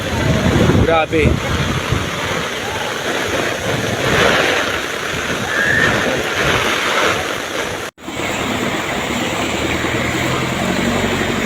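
Strong wind and rain roar continuously during a flood along Pearl Drive, loud and close with gusty buffeting on the microphone, while a voice briefly exclaims.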